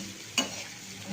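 Cumin powder frying in a pan, one quick close scrape of stirring over a soft, steady sizzle.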